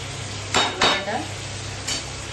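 Chicken stomach and liver sautéing in a pan, a few distinct scraping stir strokes of a utensil against the pan over a steady low background, with no voices.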